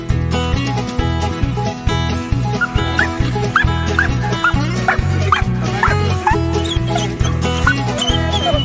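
A dog barking and yipping in a rhythmic pattern over steady loud music with a pounding low beat, the barks close but partly buried in the mix, during a rescue-workers' day event with police present.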